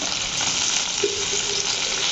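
Chutney ingredients with a couple of pieces of ginger sautéing in a pan over a low flame give a steady, dense sizzle throughout, close and fairly loud, with no voices.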